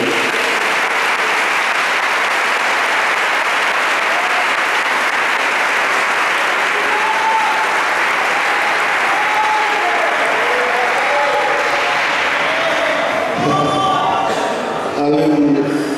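Sustained applause from a church congregation at a family worship service, steady and dense for most of the stretch, with voices and singing rising over it near the end.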